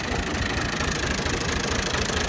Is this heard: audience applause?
no